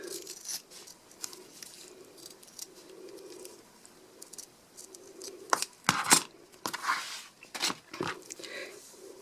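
Scissors snipping around an in-the-hoop embroidered fabric napkin ring, a series of quiet, irregular cuts and rustles that grow busier and crisper toward the end, with no voices.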